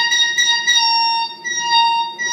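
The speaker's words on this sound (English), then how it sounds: "It's a horn." A horn sounds in sustained, buzzy blasts with a steady pitch, dipping briefly before sounding again.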